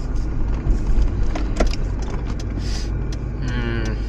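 A van pulls away on a road in Ladakh, with a steady, fairly loud engine and road rumble running throughout and no clear voices.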